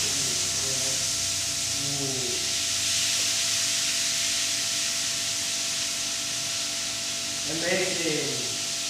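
Sugar added to hot oil in a frying pan gives a loud, continuous hiss and sizzle that fills the clip, while a person talks briefly near the start and again near the end.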